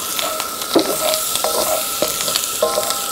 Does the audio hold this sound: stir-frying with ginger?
yes